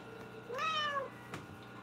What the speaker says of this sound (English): Are you just gonna meow at me?